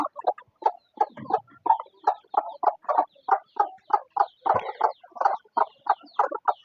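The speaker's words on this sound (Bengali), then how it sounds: "এই যে যে মুরগিগুলো দেখতে পাচ্ছেন।" Farm chickens cluck in a rapid, rhythmic series of short calls, fairly close and continuous, with overlapping birds and no talking.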